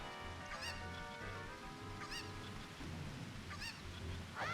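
A cucco chicken in The Legend of Zelda: Ocarina of Time gives a few short, separate clucks and squawks, spread across the clip and heard over a steady bed of game music and ambient rumble.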